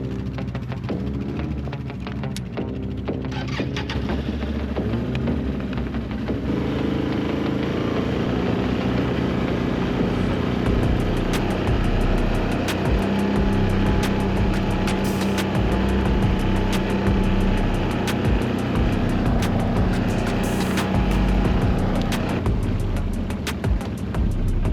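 Vehicles including a quad drive on after a burnout, a continuous loud engine drone and road rumble holding steady throughout, with scattered clicks and knocks over the motor noise and no one speaking.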